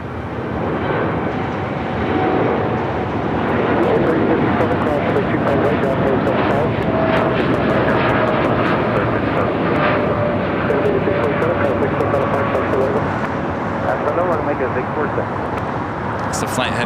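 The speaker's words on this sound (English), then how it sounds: "It's the flight heading to Mexico City in that Dreamliner." A Boeing 787-9 Dreamliner jetliner bound for Mexico City passing at LAX, a loud sustained engine roar with a gliding tonal whine that slowly falls in pitch, while people talk over it.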